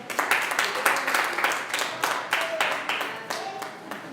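A church congregation claps in praise, a loud rhythmic burst of many hands that slowly thins out, heard without speech over it.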